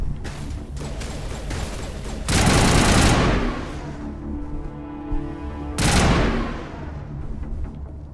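Two loud bursts of rapid automatic gunfire in the video game Mass Effect Legendary Edition, each lasting about a second, separated by quieter mechanical rumble and lingering echo.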